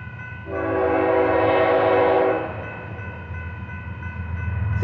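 A CPKC southbound grain train passing a crossing sounds one loud, sustained horn blast lasting about two seconds, then a steady rumble of rolling railcars up close.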